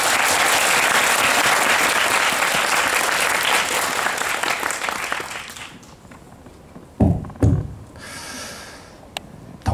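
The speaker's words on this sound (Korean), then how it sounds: "김세윤 작가님께 큰 박수 한번 부탁드립니다" Audience applause at a film screening talk, loud sustained clapping from a crowd for about six seconds that dies away into scattered claps, shuffling and a few isolated knocks.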